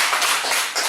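Church congregation applauds, a brief, dense burst of many hands clapping at once, loud and unbroken, no talking over it.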